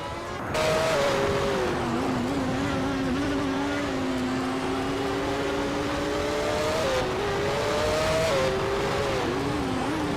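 A Williams FW17 Formula One car from 1995 screams along in a racing video game at Hidden Valley Raceway, its engine holding a steady high whine for about ten seconds with brief pitch dips on gear changes and a lift, loud and close.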